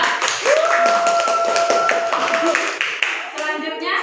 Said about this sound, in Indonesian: Kasih aplaus untuk kelompok 2.